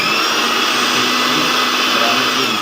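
An electric mixer grinder blends aloe vera juice with a loud, steady, continuous motor whir that does not let up, heard close.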